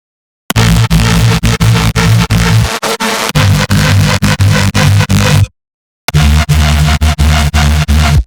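Harmonic reese bass layers made in Serum play over a mono bass as loud, dirty, gritty sustained tones with a steady rhythmic chop, cutting out briefly before resuming.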